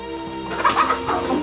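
Chickens cluck in a short, dense burst of overlapping calls, moderately loud and close, with no talking.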